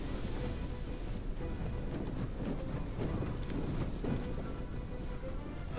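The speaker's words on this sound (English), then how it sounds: "The rain of arrows is getting a bit thicker now." Volleys of arrows falling on a battlefield in the Ancient Empires mod, a steady dense patter like heavy rain with a low rumbling undertone, continuous and fairly quiet, with no distinct individual impacts.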